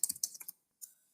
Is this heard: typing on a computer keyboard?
yes